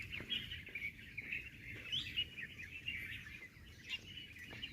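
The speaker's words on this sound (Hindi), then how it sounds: "बहुत ही सुंदर सी चिड़िया यहाँ पे बैठी हुई, क्या लग रही है।" A small bird chirps in quick, bright, repeated notes while perched in open farmland, fairly close and alone against a quiet outdoor background.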